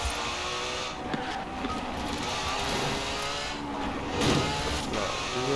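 Forza Horizon 4 race car tearing through a tight bend, its engine droning steadily while tires squeal in short bursts, loud and continuous with no talking.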